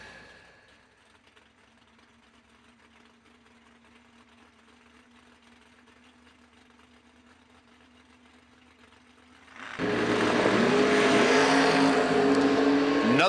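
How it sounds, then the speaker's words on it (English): Drag racing car launching hard off the line into a huge wheelie, a sudden loud roaring burst after several seconds of steady distant idling engine drone, with no talk. "Another huge wheelie from Brian Haas."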